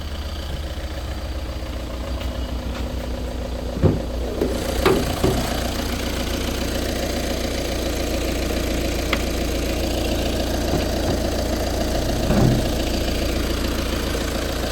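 A 2012 Volkswagen Vento diesel engine idling, a steady low rumble throughout with a few brief knocks and clunks near the start, no talk.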